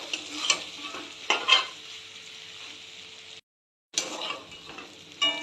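Chicken liver fries in a pan with onions and potatoes, a steady close sizzle broken by scraping stirs and clinks of the utensil, with a brief silent gap before the frying resumes.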